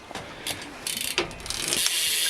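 Rear freewheel hub on an Exposure bicycle wheel ticking rapidly as the wheel is spun by hand, a bright continuous ratchet clicking heard close up with no talking.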